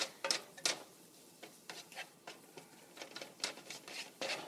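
Spices cook in a pan for chicken curry, giving a faint, crackly sizzle with soft irregular scraping and stirring taps throughout, no voices.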